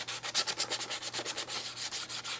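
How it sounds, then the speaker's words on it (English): Light hand sanding with fine-grit emery cloth, a close, steady run of quick back-and-forth rubbing strokes with an even scratchy rhythm and no voices. "Just light sanding"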